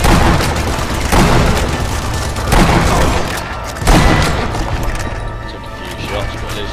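Sniper rifle fire in the video game Sniper Elite V2: loud, close booming reports, about four heavy shots spaced a second or more apart over a dense rumbling background, with a voice briefly heard.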